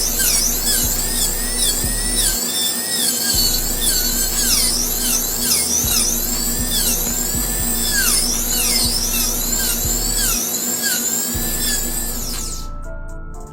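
A dental handpiece with a burr bevels the sharp lingual incisal edges of a tooth preparation, giving a steady, close, high-pitched whine that wavers in pitch as it touches the tooth and cuts off abruptly near the end.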